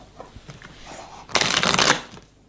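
Cards shuffled for a spiritual card reading: quiet handling taps at first, then a loud close riffle-shuffle burst lasting about half a second before fading, with no talking.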